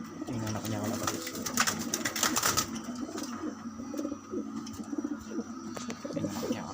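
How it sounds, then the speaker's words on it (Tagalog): Pigeons cooing in a loft, soft repeated low coos close by, mixed with brief clicks and flutters, while a person speaks intermittently nearby. "Tingnan na kanya kalapatids"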